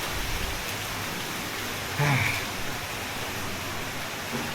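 Heavy night rain pouring down in Mumbai, a dense, steady hiss of drops on surfaces close by, with a brief faint knock partway through.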